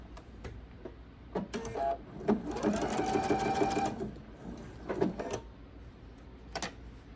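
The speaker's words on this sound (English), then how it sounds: "I'm going to sew 1/4 of an inch down my side" A sewing machine stitches quilt binding a quarter inch from the edge, with a few short clicks and taps before a steady run of about a second and a half, then more scattered handling clicks afterward.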